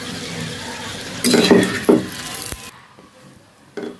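A Mughlai paratha coated in egg is flipped over in a frying pan, giving a burst of scraping spatula and pan clatter with a hiss of frying, then a sharp knock and a final faint clink.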